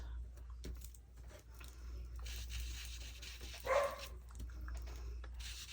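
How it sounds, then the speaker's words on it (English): A dog barks from behind a closed door, muffled and distant, one short burst rising briefly above a low room hum. "Can you hear him barking?"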